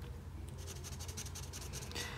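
A turquoise blue alcohol marker colors the eyes of an Iron Man emoji drawing on paper, producing a series of quick, soft, close scratchy strokes in a rapid rhythm.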